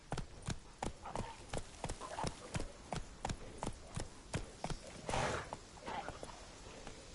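Hooves of Roach, the horse in The Witcher 3 on PS5, beat in a steady galloping clip-clop rhythm, close and clear from start to finish, with brief swells of rider effort and movement partway through.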